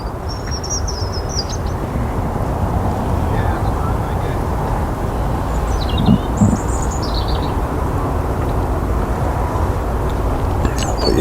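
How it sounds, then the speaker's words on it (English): A few birds chirping in trees at dawn near Leeds Bradford Airport, faint high calls in short phrases over a steady broadband background rumble. "Got a few birds in the trees chirping away."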